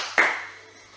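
A single sharp hand clap at the end of a home workout session, close and crisp, with a short ringing decay into near silence.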